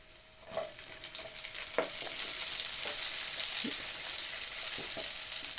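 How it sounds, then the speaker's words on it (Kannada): Onions frying in a pan for honey chilli potato, a sizzle that swells after the onions drop in and holds steady, with a few soft stirring scrapes. "ಈರುಳ್ಳಿ ಹಾಕ್ತಾಯಿದ್ದೀನಿ"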